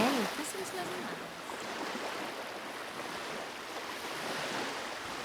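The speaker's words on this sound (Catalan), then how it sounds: "Què sents les onades?" Ocean waves washing in a steady, fairly loud rush of surf and wind noise, with a short high whistle-like tone at the very start and no clear speech.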